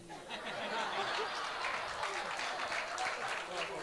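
An audience claps through a Marathi kirtan, a steady, fairly soft patter of many hands with a bit of laughter and a voice underneath.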